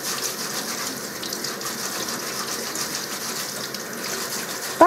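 A carrot is rinsed under a running kitchen tap. A steady, close hiss of flowing water continues without a break and ends with a small knock.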